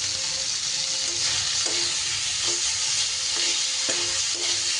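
Small-cut chicken stir-frying in a pan with little oil: a strong, even sizzle close by, broken by a few regular stirring strokes.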